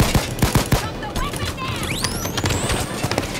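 Dense rapid gunfire crackles through a Payday 2 mall raid, bursts of shots close and loud with voices talking over them.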